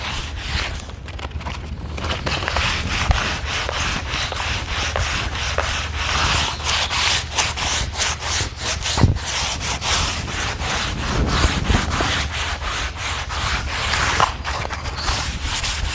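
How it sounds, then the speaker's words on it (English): Sandpaper rubbed by hand over a wooden staircase, a steady close scratching with repeated back-and-forth strokes running continuously throughout, no talking. "I'm going to take the other sandpaper, which is the 220."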